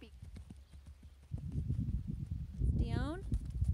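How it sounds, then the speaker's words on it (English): Horses being led in on a farm, hooves clip-clopping in a steady walking rhythm close by, under a background of rustling and handling noise, with a horse's whinny partway through. "We brought our horses in."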